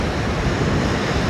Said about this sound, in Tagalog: Malaki ng alon. Talagang pumapalo talaga siya oh.